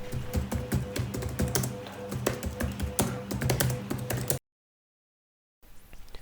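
Rapid typing on an Asus ROG GL552JX laptop keyboard, a steady stream of close, crisp taps with an irregular rhythm, then a brief silence before the tapping resumes.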